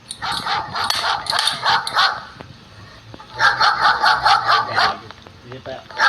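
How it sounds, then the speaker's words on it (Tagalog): A dog in a Roblox game gives rapid bursts of yappy barks in two clusters, close and loud, with people talking over and between them. "May aso sa Roblox."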